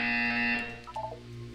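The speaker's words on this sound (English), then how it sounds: "You will hear a buzzer." A flat electronic buzzer from the video game Portal 2 drones steadily and loudly for about a second, then fades while brief higher electronic tones chirp over it.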